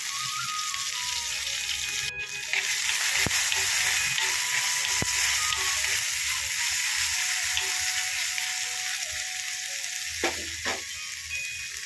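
Crushed garlic, ginger and green chili sizzling in hot oil, a steady crackling fry with a few sharp clicks and clinks of utensils, close and continuous with no talking.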